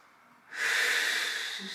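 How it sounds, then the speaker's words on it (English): A loud, sustained deep breath during a core stretching exercise rises suddenly out of near quiet and holds as a steady, breathy rush of air close to the listener. "Deep breathing."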